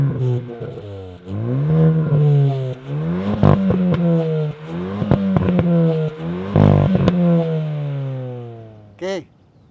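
Hyundai i20N engine revved repeatedly in place, loud and close, with rising and falling sweeps of the motor and sharp mechanical pops between them, ending in one brief quick rev.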